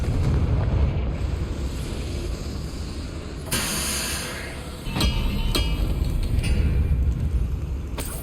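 A Confringo blasting spell going off in the fantasy game Hogwarts Legacy, with bursts of fiery explosion and hissing spray layered over a rumbling battle din, plus a few sharp cracks afterward.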